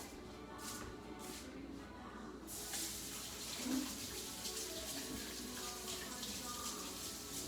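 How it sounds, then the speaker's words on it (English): Hands are washed under a running tap, water streaming steadily and close with soft splashing and rubbing throughout. "Wash our hands."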